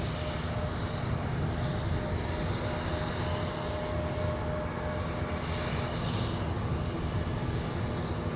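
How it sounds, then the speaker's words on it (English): F-22 fighter jets fly far off near Anchorage airport, a faint, steady distant jet rumble and hiss that stays even throughout with no voices. "yeah, I'm pretty sure those are F-22s"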